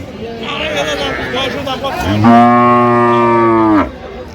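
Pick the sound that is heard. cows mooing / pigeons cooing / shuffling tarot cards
cows mooing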